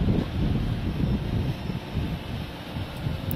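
DJI Phantom 3 quadcopter drone passing overhead outdoors, a faint steady buzz almost buried under heavy wind rumble on the microphone.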